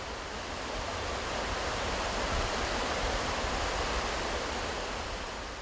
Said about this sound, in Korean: 규모는 소박하지만 웅장한 멋이 느껴지는 폭포물이 활활 쏟아지고 있는데요